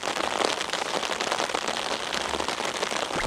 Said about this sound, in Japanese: 雨がすごい、